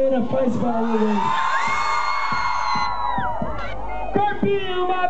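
At a concert in Piracicaba, Brazil, loud cheering and whooping from a crowd of women rises over pulsing music and a singing voice, continuing steadily throughout.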